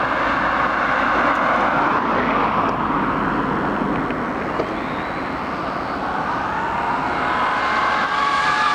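Custom-built Traxxas Xmaxx RC car with an XLX 2 controller, driven at full throttle on a street, giving a loud, sustained high-pitched motor whine and wind roar that holds steady throughout.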